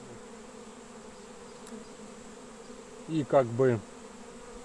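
Honey bees drone at a hive during the rapeseed honey flow, a steady low buzz filling the background while someone speaks briefly near the end.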